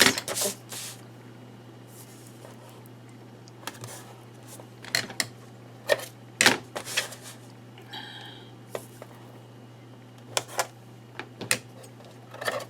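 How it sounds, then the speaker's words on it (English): Adhesive tape being pulled and pressed onto paper pieces for a 5x7 mini album: scattered sharp crackles and rips, some in quick pairs, over a steady low hum in a quiet room. "I'm gonna take my tape and add it on the outside of my score lines"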